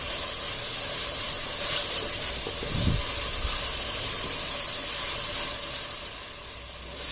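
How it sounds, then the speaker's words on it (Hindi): Tikka masala with boneless chicken sizzles in a pan, a steady hiss of frying that continues throughout with a few soft stirring bumps and no talking. "अब इस मसाले को इसमें 1 से 2 मिनट तक ही फ्राई होने देना है"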